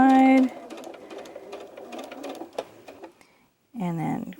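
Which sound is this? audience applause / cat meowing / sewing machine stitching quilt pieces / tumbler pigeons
sewing machine stitching quilt pieces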